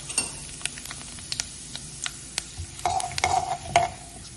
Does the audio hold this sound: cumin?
yes